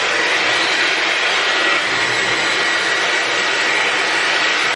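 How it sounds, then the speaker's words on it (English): A loud, steady rushing blast of air from a Dyson hair dryer with a nozzle blow-drying hair runs continuously, then cuts off abruptly at the end. "I use the Dyson hairdryer with the nozzle on and I just blow dry it straight"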